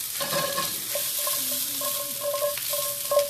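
Steady sizzling of frozen vegan shrimp frying in a hot pan over low flame, a constant bright hiss with faint clinks and tonal squeaks from utensils, close and moderately loud.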